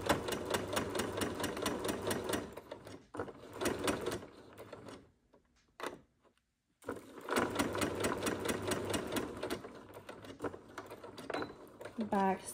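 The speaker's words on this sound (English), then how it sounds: "and just keep sewing" A sewing machine stitches an invisible zipper in steady rapid bursts, loud and close, broken by a short pause before it runs on again.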